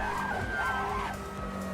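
Racing car in Assetto Corsa braking hard at Goodwood, a 1990s touring car, with tyres skidding and squealing in a sustained screech over engine drone, close and loud.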